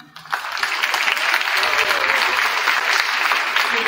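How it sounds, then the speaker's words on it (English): Loud, dense crowd applause fills a high school fall athletic awards night gym, rising quickly and staying steady and close for nearly four seconds. "You can clap for her now."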